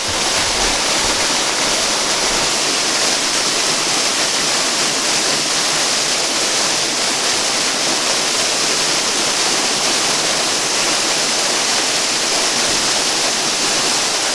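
Arkansas waterfall roaring steadily and loudly, a dense unbroken rush of falling water that fills the whole stretch with no voices or pauses.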